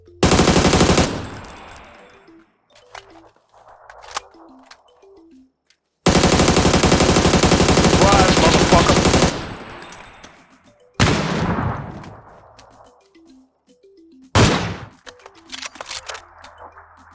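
Gunfire in the video game PUBG, with long dense bursts of loud automatic fire broken by short sharp shots and fading echoes, heard close with no voices.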